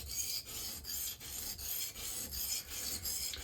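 A knife blade is drawn repeatedly across a 220 grit sharpening stone, a close, even rasping in regular strokes of roughly two per second, with no voices.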